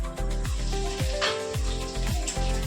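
Corn kernels hit hot oil seasoned with cumin and curry leaves, giving a loud, continuous sizzle over a low, repeating rhythmic tone in the background.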